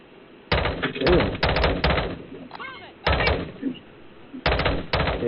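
Enemies fire guns in a video game. Loud, sharp shots come in quick clusters and bursts, separated by brief pauses.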